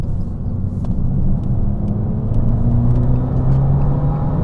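An Abarth 595 Esseesse hums and rumbles steadily from inside while driving, its engine note climbing gently as it accelerates, with faint clicks and no talking.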